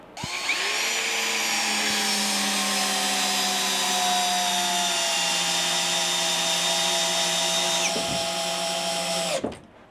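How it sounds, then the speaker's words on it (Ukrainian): Two cordless drill-drivers set to drill mode drive 200 mm screws, a loud whining motor drone that slowly drops in pitch under load for about eight seconds, then cuts off abruptly. "На двох шуруповертах я виставляю режим сверління."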